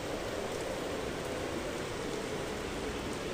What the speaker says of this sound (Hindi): अभी वो जा ही रहा था कि तेज बारिश शुरू हो जाती है।